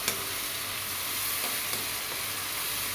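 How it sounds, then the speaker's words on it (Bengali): A blended paste of onion, garlic and cumin fries in hot oil for an egg korma, sizzling steadily and close with faint stirring scrapes and no talking. "আমি হালকা একটু ভেজে নিচ্ছি যে কাঁচা গন্ধটা না থাকে।"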